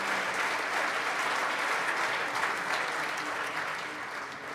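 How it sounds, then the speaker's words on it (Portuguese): Steady, full applause from a conference audience at a plenary session, dense and uniform for several seconds before easing slightly at the end. "um aplauso para os três"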